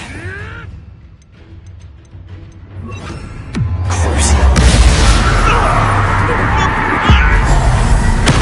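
A fiery Incendio spell blast erupts in Hogwarts Legacy, a sudden loud whoosh and roar that swells and sustains with crackling bursts, over a low rumbling game backdrop.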